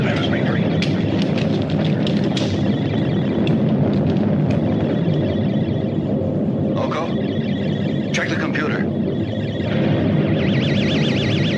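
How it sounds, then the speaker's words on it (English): A stellar explosion sound effect from a 1978 science-fiction film, a loud continuous rumbling roar layered with electronic warbles and beeps, with voices speaking over it. "Mila, check the distance of the stellar explosion"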